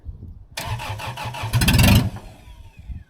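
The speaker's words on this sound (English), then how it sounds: "those Kubota engines don't like being cold" A cold Kubota diesel engine on a scrapped skid steer without glow plugs cranks briefly, then fires and roars up loudly for a moment before dropping away, heard up close.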